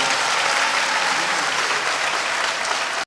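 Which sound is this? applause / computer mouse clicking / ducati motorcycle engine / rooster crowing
applause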